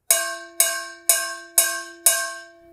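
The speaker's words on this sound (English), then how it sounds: "and the taper part will be the higher tone." Five evenly spaced strikes on the tapered, higher-toned part of a timbale mambo bell ring out close and bright, each leaving a short metallic ring before the next hit.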